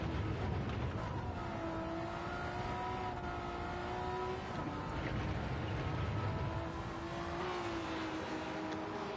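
An unmodified, quiet-sounding car engine at a motorsport event revs steadily for several seconds, its droning tone rising and dipping slightly at moderate distance, with no voices.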